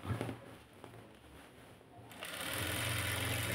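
A sewing machine stitching a ready-made lehenga during a repair, starting with a few soft thumps and faint handling before the motor's whir rises into a steady, fairly quiet run.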